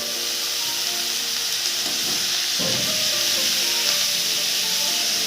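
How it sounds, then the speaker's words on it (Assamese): Constant hiss of greens and potatoes frying in a pan, close and steady, with a soft stirring scrape partway through and no talking. "অকণমান ভাজি ল'লোঁ পচলাখিনি"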